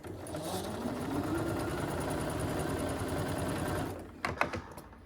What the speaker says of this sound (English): I'm just gonna sew the door on right here